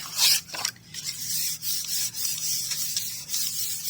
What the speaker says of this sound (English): I'm going to burnish that down